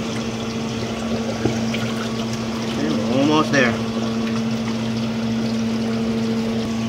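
A sump pump draining water from a pond liner hums steadily under a person speaking briefly, with a short burst of gurgling and splashing water midway.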